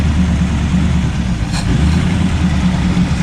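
The 307 V8 in a 1979 Chevy Camaro, a field find with a poor carburetor, runs loud and close at a steady, rough idle throughout.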